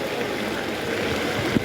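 Rain floodwater rushing through a street in Nalasopara, a steady broadband wash of flowing water that fills the clip evenly, with a brief louder splash near the end.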